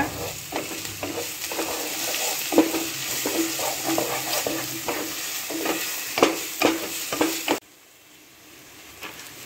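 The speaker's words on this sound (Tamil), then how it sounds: "ஒரு 2 ஸ்பூன் இஞ்சி பூண்டு பேஸ்ட் ஆட் பண்ணிக்கிங்க. இதையும் சேர்த்து நல்லா வதக்கிக்கிங்க." Onions sautéing with ginger garlic paste sizzle close up, with spatula strokes scraping the pan in an irregular rhythm, then the sound cuts to near quiet near the end.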